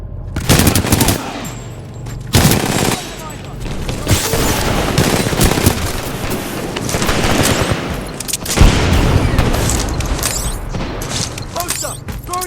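Rapid automatic gunfire and heavy mechanical clanks fill a Titanfall 2 combat scene, loud and continuous with bursts and booms, while voices shout over the fighting.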